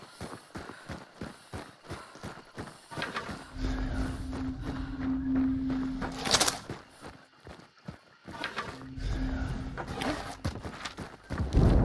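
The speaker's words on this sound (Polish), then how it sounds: "Konia gdzieś tu słyszałem w pobliżu." A horse in the video game Hunt: Showdown, heard as clip-clopping hoof steps and snorting with a sustained whinny-like tone that rises and falls twice, close and fairly loud against quieter ambient game sounds.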